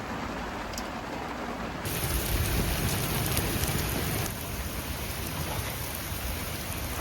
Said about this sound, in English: It's pissing with rain outside